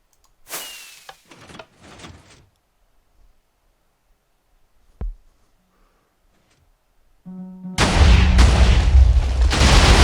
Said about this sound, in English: I think she heard some explosion above her.